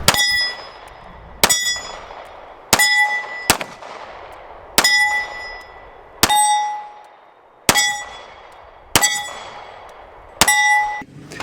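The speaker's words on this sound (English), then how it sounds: "this handgun shoots incredibly well. So we're going to show some shooting footage" An HK VP9 9mm striker-fired pistol fires at steel targets outdoors. Nine evenly spaced shots each bring a bright metallic clang and a ringing tone that decays before the next.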